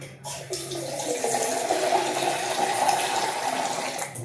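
Water pours steadily into methi paratha dough, a close, continuous gushing splash that lasts several seconds with little change.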